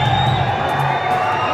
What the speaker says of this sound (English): The crowd is electric here inside the Siri Fort Stadium.